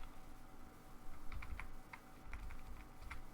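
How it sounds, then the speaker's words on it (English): Soft, sparse keystrokes on a computer keyboard with a few clustered taps over a steady low room hum while entering text during a Windows 11 install setup; faint and alone. "Oops, and I'm typing it on the wrong thing."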